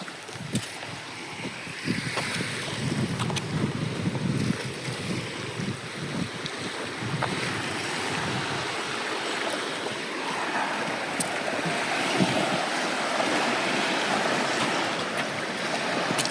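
Lake Superior surf washing onto Mosquito Beach at Pictured Rocks, soft rolling waves mixed with wind noise, continuous and moderately distant with no talking.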